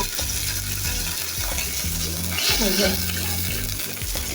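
Onions and poa fish frying in a pan with a little water, giving a steady sizzle with stirring over a continuous background of tonal sound.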